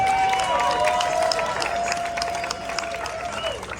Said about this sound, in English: huge round of applause for Strobe and his friend Gumbo next to him